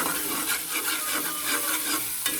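Spices with chopped onion and tomato stir-fry in a hot pan, a steady close sizzle with soft scraping strokes of the spoon running throughout, no voices.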